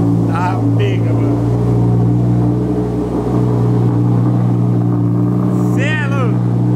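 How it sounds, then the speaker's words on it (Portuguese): A car engine idles steadily and loudly just after a cold start, with a constant low hum and a few faint voices in the background. "Olha o jeito que o motor no cold start faz barulho"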